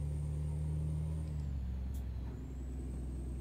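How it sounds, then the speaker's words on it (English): A big truck's turbo whines high and steady as the engine pulls uphill in a truck driving game, with a low engine drone underneath. The whine drops away partway through and a hiss follows. "Yeah, listen to that turbo."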